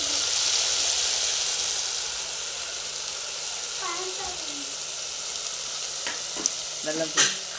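Onions and masala frying in a pan while being stirred, a steady close sizzle with a few metallic scrapes and clinks toward the end; a voice speaks briefly partway through.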